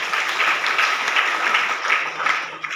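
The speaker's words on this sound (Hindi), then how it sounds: "एक हमारे ग्रेट गुरुजी रामके सर की जो है ताली होनी चाहिए।" A crowd at a business gathering claps for a guru, dense and sustained applause with no pause, fairly loud and even.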